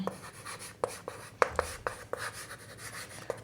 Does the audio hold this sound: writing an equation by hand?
yes